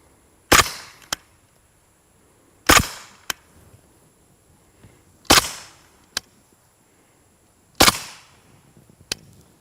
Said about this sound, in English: I'm going to put a few of these rounds over here in the dirt, just so you can hear how quiet they are